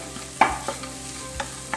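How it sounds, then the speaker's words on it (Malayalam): Fried cashews and raisins stirred into a banana mixture in a pan, a few separate spoon scrapes and soft taps over a low sizzle, close by with no voices. "നമുക്ക് വറുത്ത് വെച്ച അണ്ടിപ്പരിപ്പ്, മുന്തിരി എന്നിവ ചേർത്ത് കൊടുക്കുക. എന്നിട്ട് നന്നായിട്ട് അങ്ങോട്ട് എല്ലായിടത്തും ഇത് വെക്കുന്ന വിധത്തിൽ മിക്സ് ചെയ്ത്."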